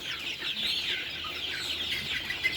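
A flock of chickens clucks and chatters in a steady, busy murmur, moving about a coop, with no one speaking.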